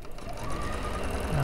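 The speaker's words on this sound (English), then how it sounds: "and we're sewing here" A domestic sewing machine stitches a set-in sleeve seam, running steadily and close for the whole moment with a continuous whirring hum and no talking.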